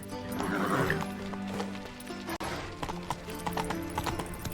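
Horse hooves clip-clop in a steady riding rhythm in The Witcher 3, close and clear, with a neigh and game ambience around them.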